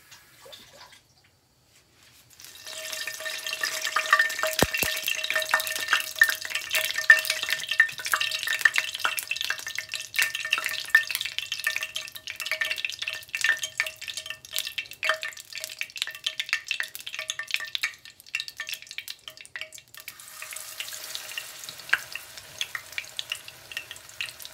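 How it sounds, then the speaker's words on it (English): Grease heats and fries in a pan for salmon croquettes, a steady, close crackling sizzle with dense popping spatter that holds for most of the stretch after a brief quiet start, with no talk over it. "My grease is heating up."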